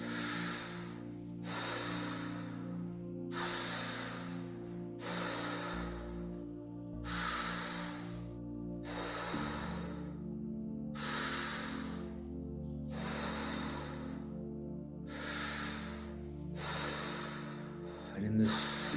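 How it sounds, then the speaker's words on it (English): Deep, slow breaths repeat about every two seconds in a guided breathing exercise, each inhale or exhale a broad airy rush, close and steady, with a low sustained hum running underneath the whole passage. "So now we'll take the breathing a little bit deeper."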